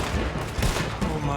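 Rapid gunfire in the Red Dead Redemption 2 video game, a dense close burst of several overlapping shots over about a second and a half, loud and sharp with little else audible.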